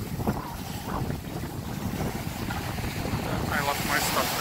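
Loud, steady wind gusts rumble against the microphone on a Grenada seashore, with breaking surf and water movement blended underneath, building slightly toward the end.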